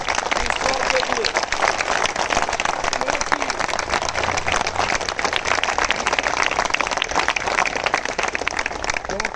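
Audience applause offered up to God at a Hindi devotional gathering, a dense steady wash of clapping from a crowd that runs loud and unbroken throughout, with a voice heard over it.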